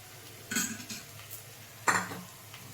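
A boiled potato is lifted into a separate bowl, giving two short, fairly quiet clinks of utensils against dishes, spaced well apart, with low kitchen background and no speech.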